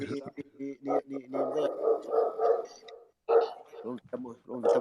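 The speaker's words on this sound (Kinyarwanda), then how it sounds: "ahantu uri rero hari imbwa ntago ndi kukumva neza kabisa" Dogs bark in the background during a phone conversation, mostly buried under steady, close talking, with a few short yelps and barks surfacing between phrases.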